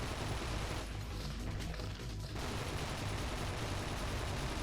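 Sustained assault rifle fire in the video game The 3rd Birthday rattles on as dense, loud bursts, dipping briefly in the middle before the shooting resumes at full intensity.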